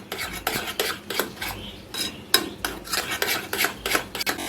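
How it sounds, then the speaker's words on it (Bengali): Palm fruit batter with baking soda being mixed in a bowl, a utensil scraping and stirring in repeated strokes, close and fairly loud, with no voices. "খুব ভালোভাবে মিশিয়ে নিলাম"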